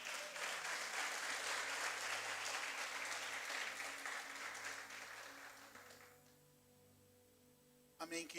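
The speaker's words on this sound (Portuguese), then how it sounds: "Você pode aplaudir ao Senhor?" A church congregation applauds during a sermon, dense clapping filling the room for about six seconds, then tapering off into quiet room hum, with a brief burst of sound at the very end.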